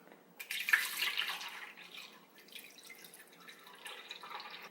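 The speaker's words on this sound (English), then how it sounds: "Pour in some milk" Milk poured into a KitchenAid 5-speed Diamond blender jar over crushed ice for a peach smoothie, a soft liquid splashing and trickling that starts loud and settles into a quieter steady pour, with no talk.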